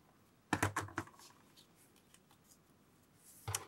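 Scissors snip paper trim for a mini envelope embellishment, a quick cluster of close, sharp crisp cuts, then quiet, and another short snipping burst at the end.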